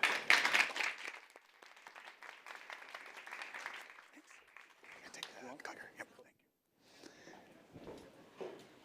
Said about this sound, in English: One more round of applause for Phil and for all of our speakers in the